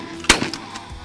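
A single sharp gunshot from target shooting at a campsite in Southern Illinois, close and loud, with a brief echo trailing away outdoors and no talking.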